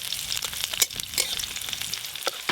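Chopped garlic hits hot mustard oil with a dried red chilli and whole mustard seeds, giving a close, crackling sizzle with sharp pops and spits over a soft frying hiss.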